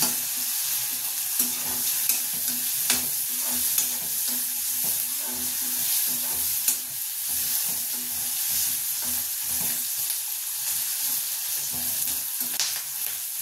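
Sliced onion and carrot fry in a pan over a continuous sizzle, while a spoon repeatedly scrapes and knocks against the pan in an irregular stirring rhythm, close and alone.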